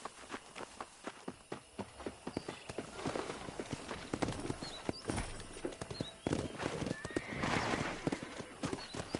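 Horse hooves clop in a steady rhythm while riding in Red Dead Redemption on PS4, moderately close, with a neigh and some rustling behind the footfalls.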